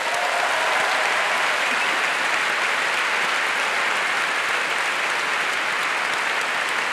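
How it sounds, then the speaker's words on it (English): A large theatre audience at an ethics centre talk event claps loudly and continuously, a dense, even wash of applause filling the whole stretch without pause. "Please give yourselves a round of applause."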